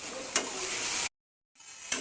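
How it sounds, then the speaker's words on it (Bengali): Tomatoes go into fried ground spice paste in a pan, raising a close, bright sizzle with a couple of sharp stirring scrapes. A brief gap of silence interrupts the sizzle before it resumes. "মশলার মধ্যে টমেটো দেওয়া হয়ে গেছে"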